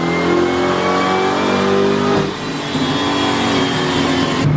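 A twin-turbo Mustang GT engine revs hard on a dyno, a loud sustained roar that dips briefly midway and then climbs again, close and alone without talk.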